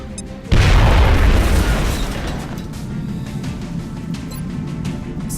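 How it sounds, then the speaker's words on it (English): A grenade blast in the strategy game XCOM: Enemy Unknown lands as a single heavy, deep boom that hits suddenly and then rolls off into a long rumbling decay. "Right, grenade toss then. Suck on this!"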